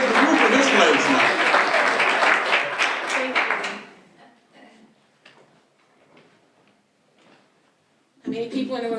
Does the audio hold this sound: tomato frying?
no